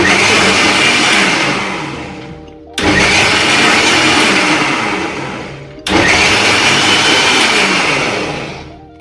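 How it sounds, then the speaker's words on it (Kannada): A kitchen mixer grinder churns cream and water into butter in three loud, close bursts of high whining motor noise, each run stopping abruptly before the next starts, with no talking. "ಸ್ವಲ್ಪ ಹೊತ್ತು ಬಿಟ್ಬಿಟ್ಟು ಗ್ರೈಂಡ್ ಮಾಡಬೇಕು."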